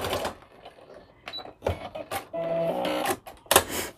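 A sewing machine running a back stitch at the end of a seam on a towel hood whirs in short close bursts, its needle clattering and motor pitch shifting between runs, with small handling clicks in between.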